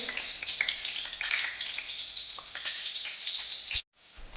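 Cashews fry in a pan with a steady, soft sizzle and scattered crackling pops, close and fairly quiet, before the sound drops out abruptly near the end.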